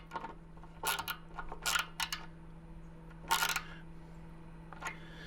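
A wrench tightens the electrical connection on an RV hot water heater element: a few short, close metallic ratcheting clicks and grinding bursts with brief pauses between them, over a low steady hum.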